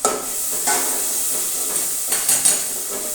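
A vegetable tempering sizzles and crackles in a hot pan as it fries and is stirred, with a continuous close hiss and a few louder bursts of spitting oil, no talking.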